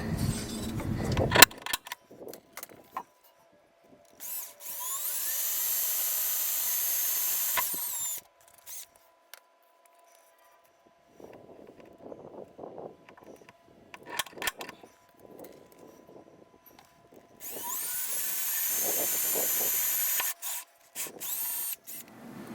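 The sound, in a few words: drilling holes in Sprinter van for motorized step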